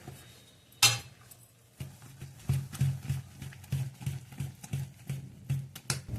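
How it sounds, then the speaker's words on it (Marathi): Fermented dosa batter is whisked in a bowl, a steady rhythm of soft wet beats and utensil clinks against the bowl, close and fairly quiet, after one sharp knock at the start. "ह्याचं आपण चांगलं फेटून आता याचे डोसे करायला घेऊ"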